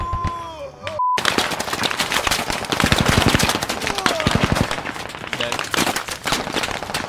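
Reaper's ultimate attack in a video game: loud, rapid, continuous gunfire bursts rattle for several seconds after a brief tonal blip, with a voice heard faintly underneath.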